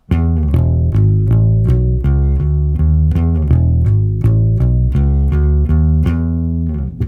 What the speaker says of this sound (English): So we just play that round and round